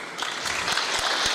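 An audience claps at a business debate event, a brief burst of moderate, dense applause at mid distance.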